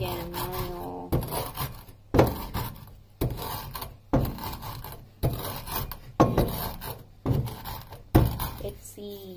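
Cumin seeds are ground by hand in a manual grinder for a Japanese-style dressing, making a repeated rasping crunch in about eight regular strokes, close and clear, with a brief bit of speech at the start.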